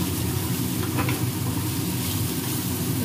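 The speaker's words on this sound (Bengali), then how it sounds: "চিকেনগুলো ভাজা ভাজা হয়ে গেছে" Chicken pieces fry steadily in a pan on a gas stove, giving a dense, continuous sizzle close up with a constant low crackle and no pauses.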